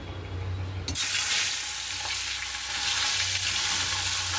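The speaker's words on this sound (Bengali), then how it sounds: "এই যে মাছ আমার একটা একটা করে ভাজা করছি" A sharp, loud sizzle bursts out as fish drops into hot oil, then keeps crackling steadily and close by.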